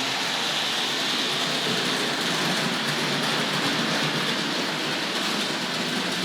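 A vintage model train runs along its track on a layout, giving a continuous, fairly loud rolling rumble and hiss with no talking.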